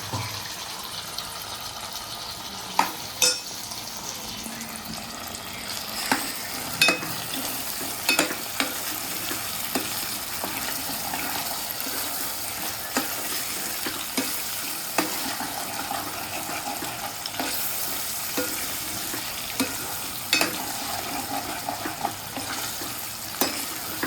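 Tomatoes fry and sizzle in a pan with chicken for Andhra-style chicken khurma with potato, a steady close hiss broken by scraping and clinking as a spoon stirs the mix.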